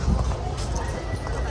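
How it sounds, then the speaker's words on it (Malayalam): A horse on a busy shopping street in Coorg neighs while its hooves clip-clop, all mixed into dense crowd noise and nearby talk. "കുതിര"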